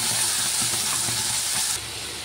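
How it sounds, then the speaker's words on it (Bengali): Ground spice paste hitting hot oil in a pan after potatoes were fried, giving a loud, steady hiss and sizzle that suddenly drops to a quieter fizz near the end. "ওই তেলে এখন বেটে রাখা মশলাটা দিয়ে দিই।"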